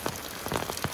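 Heavy rain falls on a house beside rice fields in a village, a dense, even patter with a few sharper drops landing nearby and no voices.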